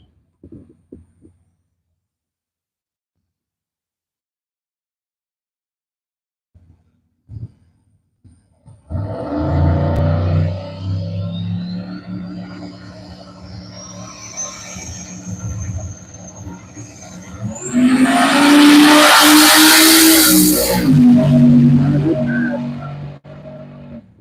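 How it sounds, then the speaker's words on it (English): A drag racing car does a burnout at U.S. 131 Motorsports Park. After a quiet start, a loud engine roar builds and holds, then surges into a harsh, hissing tire-spinning blast near the end. "Fast Act Racing doing another burnout."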